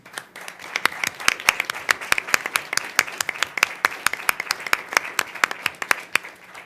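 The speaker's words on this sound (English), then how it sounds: "so we could clap for you" A school board meeting audience applauds, with many hands clapping in a steady, fairly close burst of sharp claps that continues throughout without any talk over it.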